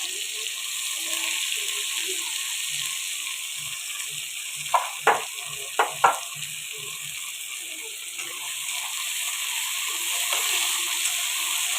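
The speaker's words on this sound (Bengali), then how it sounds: "এইবার পেঁয়াজ আর টমেটোটা ভালো করে ভেজে নেব।" Onion and tomato fry in a pan for a spicy goat curry, a steady close hiss of sizzling oil broken midway by a few sharp knocks of a utensil against the pan.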